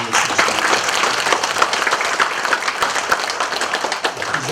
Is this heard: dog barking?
no